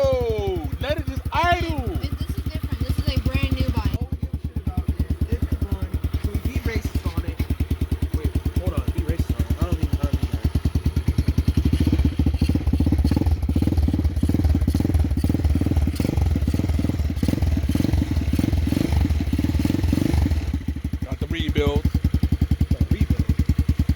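A motorcycle fitted with a swapped-in Zongshen 250cc engine idles steadily up close, its low, loud rumble running throughout with slight rises and occasional clatter, while people talk over it.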